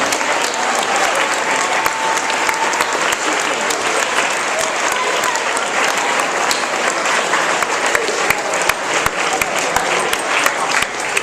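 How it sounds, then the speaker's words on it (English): A dense, loud round of applause from an audience at a school justice lyceum event, sustained and even throughout with faint crowd murmur mixed in. "give them another round of applause"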